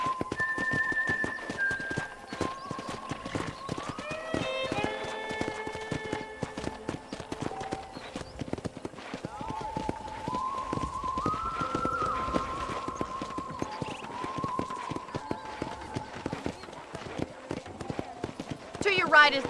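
Horse hooves clip-clop at a steady walking pace in the video game Red Dead Redemption, while a person talks over them, with soft music in the background.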